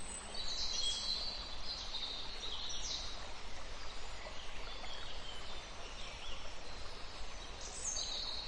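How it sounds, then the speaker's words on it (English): Seagulls call outdoors in nature with a series of thin, high cries and chirps, fairly faint against a steady airy background wash. "Seagull."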